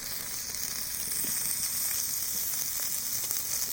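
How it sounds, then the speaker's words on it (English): Sausage links frying over a twig-fed Überleben Stöker flatpack stove, a continuous close, even sizzle and hiss without any talking. "Cooking links."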